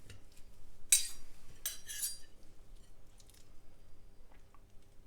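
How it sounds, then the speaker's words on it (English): Cutlery cutting open a scorpion chilli chicken wing on a plate: two brief, crisp scrapes and crunches close up, then quiet with a few faint taps and clinks. "I'm going to cut one open and just make sure they're cooked"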